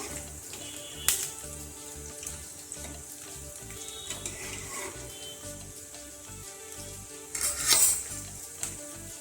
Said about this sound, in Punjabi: ਆਲੂ ਸਾਡੇ ਬਰਾਉਨ ਹੋ ਚੁੱਕੇ ਆ ਤੇ ਮੈਂ ਆਲੂਆਂ ਨੂੰ ਬਾਹਰ ਕੱਢ ਦਵਾਂਗੀ